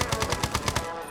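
Video game gunfire: a rapid automatic burst of about seven evenly spaced, loud shots that stops abruptly and leaves a faint tail.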